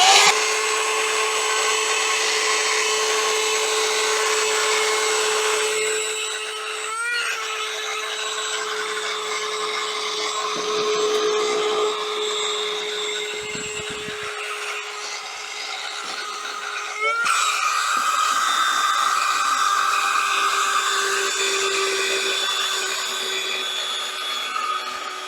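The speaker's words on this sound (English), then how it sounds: "So when using the vacuum cleaner," A $7 handheld mini vacuum cleaner whirs steadily and continuously at close range while picking up spilled oats, its pitch shifting slightly a few times as it runs.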